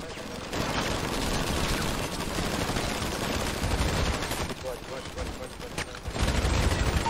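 Rapid bursts of video game gunfire crackle almost nonstop, loud and dense, with voices talking over the shooting.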